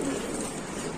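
Many pigeons in a pigeon shop coo together in a brief, dense, continuous murmur close by.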